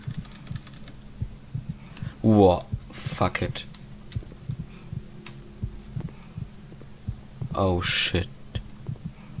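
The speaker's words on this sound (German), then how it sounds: "Vor allem der Herzschlag, der macht mir immer hier." Low rhythmic heartbeat effect in the horror game Statues keeps pulsing underneath while someone shouts in alarm twice, with a steady hum beneath the beats.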